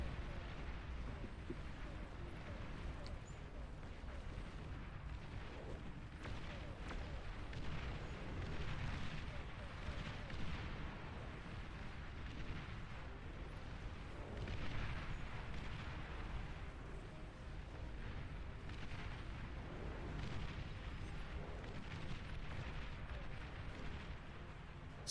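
Gatling artillery fire raining across a battlefield in a video game, a continuous dense roar of overlapping blasts and bursts at moderate loudness, sustained throughout with a commentator's voice speaking over it.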